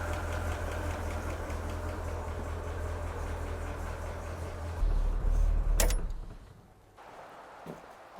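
A Bentley T engine idles with a steady low hum and faint ticking while warming up before a brake bleed, then a sharp clatter near the end as it drops away to quieter background.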